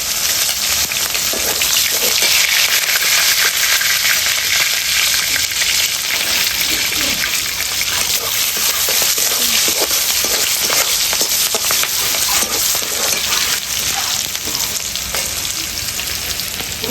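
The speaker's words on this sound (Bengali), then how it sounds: "এবার কাঁচা লঙ্কা দিয়ে দিলাম।" Green chillies fry in hot oil in a pan with a loud, continuous, close-up sizzle and crackle that never lets up, with faint stirring underneath.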